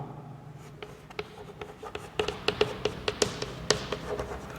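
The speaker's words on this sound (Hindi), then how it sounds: "मैं इसको इधर लिख देता हूँ, मिस्टर हेमल" Chalk or marker writing on a classroom board during an English lesson, a run of quick taps and scratchy strokes that grows busier and sharper toward the end, close and fairly quiet with no talk over it.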